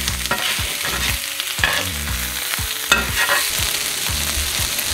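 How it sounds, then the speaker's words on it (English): Turkey sausage frying in a skillet over medium heat, a steady sizzle with repeated scraping stir strokes that come at an irregular rhythm, close and fairly loud, with no voices. "Okay, I have my skillet on medium heat. Add the sausage."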